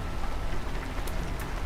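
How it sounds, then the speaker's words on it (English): Heavy rainfall outside in the Holstin video game, a steady broadband wash of falling rain with a couple of brief brighter drips, continuous and even throughout. "It's raining outside"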